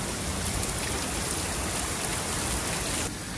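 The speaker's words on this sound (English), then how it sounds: "We have this just torrential downpour." Torrential rain pours down during a wild nighttime storm, a dense, loud, unbroken hiss of heavy drops drumming steadily throughout.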